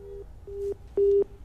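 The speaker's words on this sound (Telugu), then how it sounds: "ఫోన్ లైన్ డిస్కనెక్ట్ అయి ఉంటుంది" Repeated tones of a phone-line busy signal after a disconnected call during a televised political discussion, short steady beeps with gaps, fairly faint and alone.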